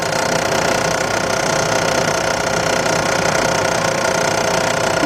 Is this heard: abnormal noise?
yes